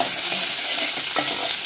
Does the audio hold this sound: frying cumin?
yes